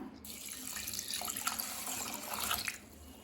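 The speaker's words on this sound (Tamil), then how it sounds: "இப்போ இது எல்லாத்தையும் நல்லா கழுவிக்கலாம்" Lentils and rice are washed under running water in a kitchen, a faint, steady splashing and trickling with small surges and no talk.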